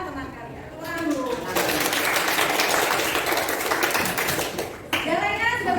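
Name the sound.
students applauding in class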